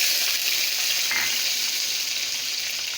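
Green chillies and garlic frying in hot mustard oil, giving a steady, close sizzling hiss that holds even and unbroken throughout, with no voices.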